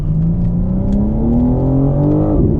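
A 2022 BMW M4 Competition xDrive taking a corner at about 40 in four-wheel-drive sport mode: a loud, close engine drone holds a steady pitch and rises slightly, then drops off near the end as the car slows.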